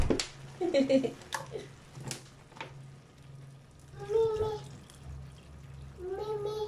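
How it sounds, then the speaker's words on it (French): Water pours into a pot of rice in a home kitchen while cooking a vegetarian rice dish, coming in short splashy bursts, with a woman and a child chatting in between. "maintenant, vous voyez, on recouvre d'eau"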